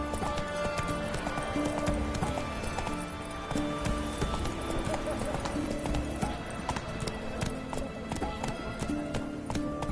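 Roach, a horse in The Witcher 3 game, gallops with rapid rhythmic hoofbeats and a brief whinny, accompanied by in-game ambience and voices in the background.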